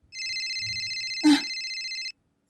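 A cellphone ringtone sounds alone, a bright, steady electronic ring lasting about two seconds, interrupted midway by a brief louder bump before cutting off abruptly.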